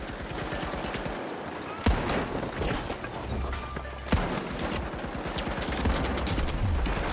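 Rapid gunfire from a first-person shooter game, THE FINALS on PS5, with dense bursts of automatic shots and a few heavier sniper-like cracks running continuously and loudly throughout.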